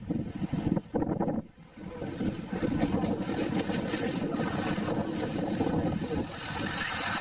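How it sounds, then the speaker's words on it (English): An airplane comes in too low and strikes the ground short of the runway, a loud continuous engine roar that dips briefly around a heavy impact, then resumes as a dense rumbling drone. "This plane landed too early and hit the ground before the runway."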